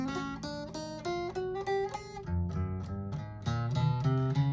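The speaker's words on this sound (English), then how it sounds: "If you can get up and down your fretboard like this" A guitar spider exercise played note by note up and down the fretboard, each pitch distinct and clean, moving in a steady rhythmic run with no talking.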